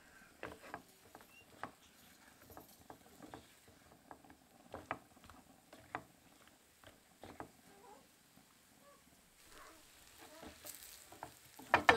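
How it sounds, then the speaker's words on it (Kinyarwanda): Sliced plantain frying in a pan over low heat, a quiet, gentle patter of small pops and crackles scattered across the whole stretch, with a brief brighter burst near the end and no talking. "Komeza ukarange, ugakaranga ku muriro mukeya kugira ngo bitaza gushirira."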